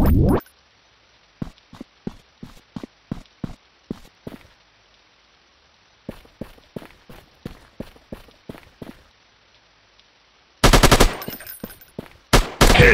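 Video game shooter gunfire: bursts of sharp, loud shots come in spaced pairs and clusters, with a short pause midway and dense rapid fire near the end, alone with no talk.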